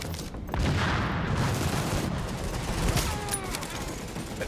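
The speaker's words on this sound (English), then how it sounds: "I do love that grenade" Gunfire and a grenade blast in the video game The Division, a dense rolling barrage of shots and booms sustained throughout at steady loudness.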